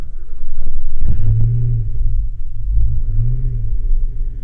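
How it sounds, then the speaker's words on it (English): An ST2 motor starts and then idles with a deep, throbbing low rumble, loud and close, surging briefly at the start before settling into an uneven steady run. "So go ahead and start the motor."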